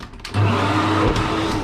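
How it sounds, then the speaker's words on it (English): A hotel bathroom hairdryer switches on and runs with a steady, loud whooshing blast of air over a low motor hum. "That's not a shaver. That's an hairdryer."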